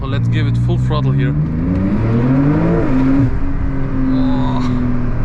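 A tuned Porsche 911 Turbo S (992, TECHART, 710 hp) engine roars at full throttle, pitch rising then holding steady, loud and close, with brief voices mixed in near the start.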